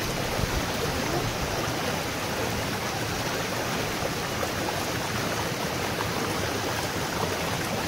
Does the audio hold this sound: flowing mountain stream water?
yes